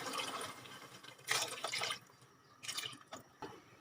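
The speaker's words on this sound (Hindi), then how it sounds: "अब इस टाइम पे गोश्त को गलाने के लिए इसमें पानी ऐड करूँगी" Water pours into a pot of mutton in uneven splashing bursts, gurgling and dripping, with quieter stretches between pours.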